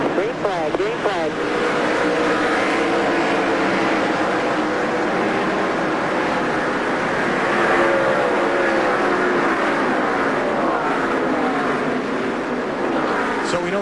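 NASCAR Busch Series race cars at Charlotte roar as the field accelerates at the green flag, a dense continuous engine wail with rising pitch sweeps, loud and sustained, while a commentator talks over it.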